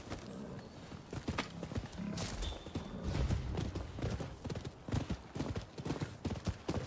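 Rapid rhythmic hoofbeats from a horse being ridden in the PS5 game Rise of the Ronin, a continuous galloping clip-clop with a brief whinny near the start.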